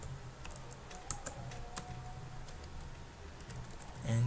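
Close, soft typing on a computer keyboard during a FORTRAN programming session. The key taps come in an uneven patter over a low room hum. No one speaks.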